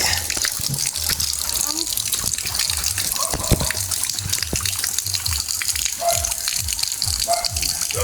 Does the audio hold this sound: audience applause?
no